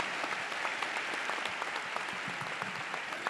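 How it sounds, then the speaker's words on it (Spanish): Audience applause after a panel presentation at a drug legalization conference, a steady, dense wash of many hands clapping throughout, moderately loud and sustained with no voices over it. "Por favor, un aplauso para todos ellos."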